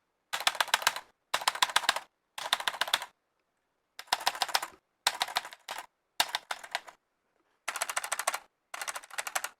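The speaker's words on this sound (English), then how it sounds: "It's the blue switches by Red Dragon, and it sounds like this now." A Red Dragon mechanical keyboard with blue switches clatters in fast, loud bursts of sharp clicks, each about half a second long, separated by brief silences, close to the ear.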